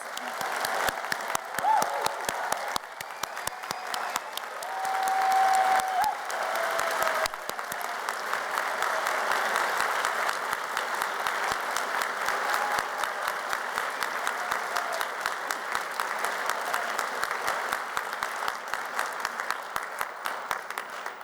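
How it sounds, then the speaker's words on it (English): A large hall audience applauds graduates at a Glasgow degree ceremony: sustained, dense applause from many hands, continuous and even for about twenty seconds. "let's give all these fantastic graduates another round of applause"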